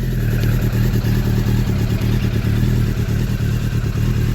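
A Suzuki Bandit GSF 600 motorcycle idles with the choke off, a loud, close, steady engine putter with even rapid firing pulses and light mechanical clatter, running alone without speech.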